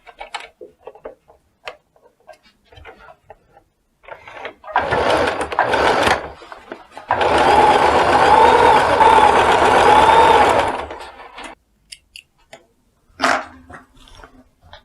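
A sewing machine stitches a pintuck blouse in bursts. One short run is followed by a longer steady whir of several seconds, with small ticks and handling clicks between the runs.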